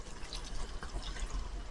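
About half a cup of water is poured into a cooking pot holding cashew and almond paste for dhaba-style chicken korma, making a short, continuous splashing pour heard up close.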